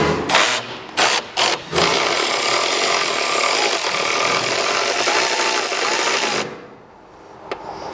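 A nut is backed off from roof trim inside the pillar of a Ford Maverick during a roof rack install. A few short bursts give way to a long, loud, continuous whirring run that stops abruptly.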